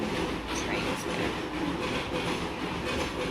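A train rolls past in a steady, loud rumble with rhythmic wheel clatter and a faint squeal, heard continuously and fairly close.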